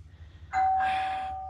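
A doorbell chime rings out loud and close in a garage during work on a 1954 Chevrolet, a single sustained tone over a low background hum.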